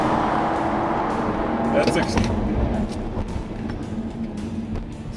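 A 2.0-liter Audi A4 in dynamic mode accelerates at full throttle during a 0-60 run, a steady, strong engine drone heard from inside the car, with a person speaking briefly over it.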